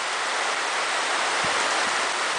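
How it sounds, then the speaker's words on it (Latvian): A downpour of heavy rain in Brisbane, an unbroken, close, steady wash of hiss with a couple of faint low thumps and no talking. "Vējš pūš, pēkšņi, lietus krīt zemē tādiem."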